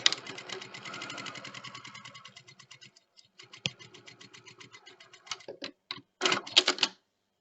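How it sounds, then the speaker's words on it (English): A sewing machine stitching fabric for a reusable snack bag, giving a rapid, even run of close mechanical clatter that pauses briefly, then resumes in shorter bursts before stopping. "Then I'm going to sew this really quickly, just like this."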